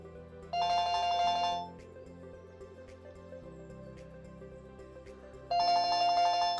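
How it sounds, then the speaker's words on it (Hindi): A Panasonic cordless landline phone on a fiber connection rings with a bright electronic tone in two distinct bursts about a second long, separated by a quieter stretch with soft background music; no one speaks. "अभी देखिए मैं अपने फोन से रिंग कर रहा हूँ, ये टेलीफोन वाली लाइट भी ब्लिंक होना शुरू हो गई है"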